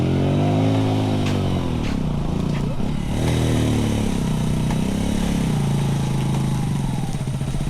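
Motorcycle engine running low and labored while scraping through deep floodwater on a rainy road, a continuous loud rumble with shifting pitch and some splashing texture throughout.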